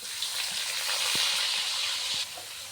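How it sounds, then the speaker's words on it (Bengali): Prawns seasoned with turmeric, salt and chili sizzle in hot oil with onion and green chilies, a loud, steady crackling fry with a few light stirring knocks, close and without talk. "চিংড়ি মাছগুলো হলুদ দিয়ে লবণ দিয়ে কিছু মরিচ দিয়ে ভাজিয়ে নিলাম পেঁয়াজ আর কাঁচামরিচ দিয়ে দিলাম"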